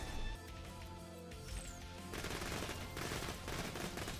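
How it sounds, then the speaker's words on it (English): Burst-fire gun shooting in the video game Azurelands 2, heard as a dense, loud run of rapid shots that continues steadily over music or game sound, growing harsher and busier in the second half. "It's a burst fire."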